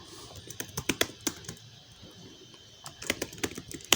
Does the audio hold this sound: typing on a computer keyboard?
yes